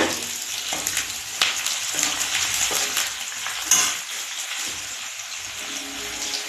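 Curry leaves, fenugreek seeds, onion, mustard seeds and urad dal fry in a pan with a steady close sizzle, broken by a few sharp crackles and stirring scrapes.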